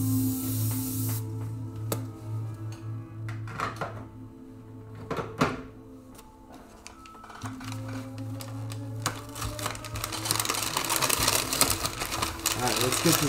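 A spray can lays a first coat of paint onto a Tamiya TT-02 Subaru Impreza rally RC car body, short hisses giving way to a long steady spray, with clicks and handling noises and someone talking.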